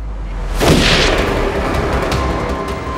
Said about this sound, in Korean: 섬 여기저기서 총성이 들려오고 있어